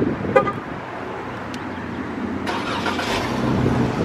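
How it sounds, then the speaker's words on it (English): A car engine is remote-started from outside the vehicle; a short chirp and click come first, then the engine catches and settles into a steady idle nearby, getting slightly louder toward the end. "finna show y'all that it crank up from outside the car"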